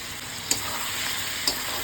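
Mutton sizzling steadily in a pan over high flame, a constant frying hiss with two soft clicks of a stirring spoon.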